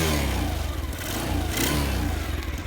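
Ice Bear Fuerza 125cc motorcycle engine with a Mikuni carburetor, running close by with a loud, throbbing putter and quick blips of the throttle over a few seconds.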